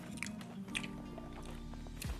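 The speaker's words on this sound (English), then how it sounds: "the chicken's really crunchy" Someone bites into crunchy fried chicken with waffles up close, a few quiet crisp crunches followed by soft chewing, with no talk over it.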